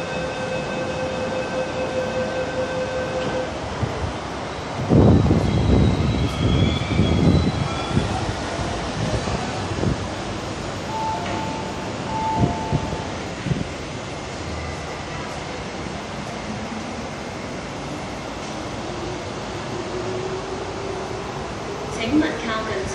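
An underground MTR train on the Hong Kong metro rumbles and squeals at Tai Shui Hang station platform, with a loud burst of noise midway as it moves, plus a tonal chime near the start.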